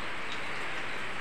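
Steady rain falls on a farm where pigs are kept, a dense, even hiss of drops with no voices, moderately loud and continuous throughout.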